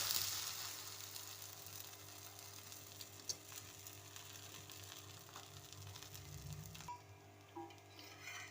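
A flipped green gram dosa (pacha payaru dosai) sizzles steadily on a hot pan, a soft continuous hiss with faint scraping, fairly quiet and close, with no talk.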